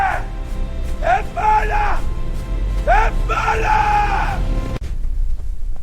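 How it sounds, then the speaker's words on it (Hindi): Echoing screams as a sound effect for a murder scene in old London: several loud, anguished yells and wails in close succession, reverberant and dramatic. "चीखें गूंज उठी"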